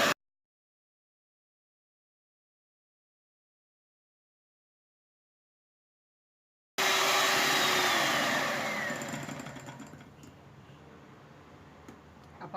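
An electric mixer starts abruptly at high speed, beating whipping cream powder for cake icing, a loud steady whir that softens and lowers as the cream thickens, after a long stretch of silence.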